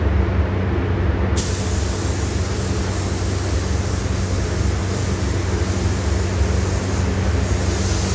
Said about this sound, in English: Got the red sprayed on.